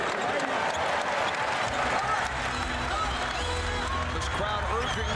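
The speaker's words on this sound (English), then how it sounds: "Crowd urging the Lakers on." A basketball arena crowd cheering the Lakers on during Game 2 of the 2002 NBA Finals against the Nets, a sustained roar of voices and claps with a commentator speaking over it.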